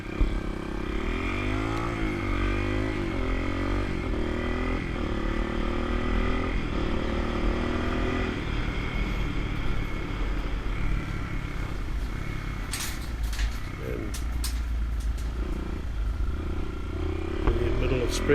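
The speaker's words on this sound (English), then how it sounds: "Just turn the idling down a bit to get it spot on." A restored Honda XR200R motorcycle engine runs with a steady, close, putting drone whose pitch shifts as the idle is adjusted, settling into a lower, rougher idle, with someone talking over it.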